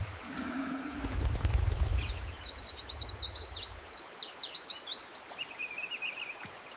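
Several small birds chirp in quick, repeated high trills after a low rumble fades, close and clear against a quiet background.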